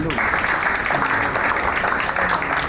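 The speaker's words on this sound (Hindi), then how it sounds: "आप सब अपने एक दफा प्लीज तालियां बजाएंगे" An audience at a Pakistani e-commerce event applauds, a continuous wash of many hands clapping close by, with faint voices mixed in.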